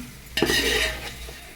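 Chili powder frying in oil for a chicken biryani: a sudden burst of sizzling with a metal utensil clink and stir, then easing off within a second.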